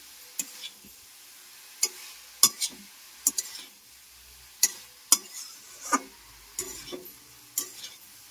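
Repeated spoon scrapes and stirring knocks against a pan as drumstick flowers and stalks are mixed, sharp irregular clicks spaced about a second apart over a faint background, no talking.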